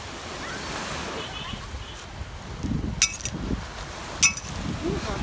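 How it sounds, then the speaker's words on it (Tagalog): Ocean surf washes onto the seashore at Pandan, Bohol on a windy day, a steady broadband rush with a couple of sharp splashes or clinks, wind noise on the microphone and a few people chatting in the background. "Alon."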